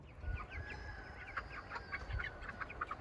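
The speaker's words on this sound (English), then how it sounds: "We were gifted a beautiful silky rooster by one of my students' families." Silkie chickens and a silkie rooster cluck in a backyard farm pen in spring, giving soft, repeated clucks and short calls in irregular bursts over quiet outdoor ambience.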